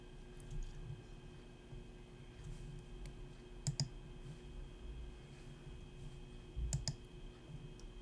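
A handful of sharp, isolated computer mouse clicks, some in quick pairs, spaced several seconds apart over a faint steady background hum in a quiet room.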